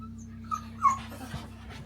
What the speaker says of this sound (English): I've just come in to check on the dogs